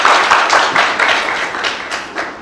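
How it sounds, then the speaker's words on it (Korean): Applause from the audience opening a panel discussion at a digital asset forum: a dense, steady patter of many hands that tapers slightly toward the end, with no voices. "박수로 토론회를 시작하도록 하겠습니다."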